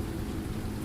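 Steady, dense rain falling at night, a continuous even hiss with no breaks or other sounds.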